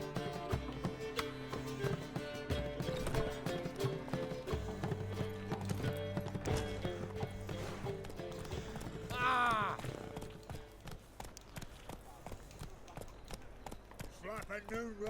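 Horse hooves galloping in the video game The Witcher 3, a steady stream of clip-clop beats under game music and effects, with a brief whinny-like swell midway.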